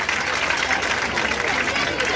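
Applause from a village crowd at a welcome and honour ceremony for a returning daughter, with dense continuous clapping filling the whole stretch at a steady level.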